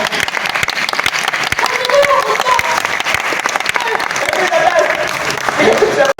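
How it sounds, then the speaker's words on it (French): A stage show audience at a festival in Congo-Brazzaville applauds in a dense, sustained wave of clapping mixed with cheers and chatter from the crowd, loud and continuous before it cuts off abruptly. "Si vous voulez applaudir, vous applaudissez."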